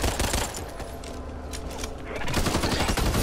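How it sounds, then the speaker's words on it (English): Rapid pistol gunfire in the zombie shooter game Back 4 Blood, loud dense bursts of shots at the start and end with a brief lull between, no talking. "Demolishing them with this pistol."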